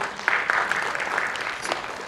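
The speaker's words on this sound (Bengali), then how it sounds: "ওর জন্য একটা জোরে হাততালি হয়ে যায়" An audience claps after a Bengali stage play, a steady, moderately loud patter of many hands with a few sharper claps standing out near the start.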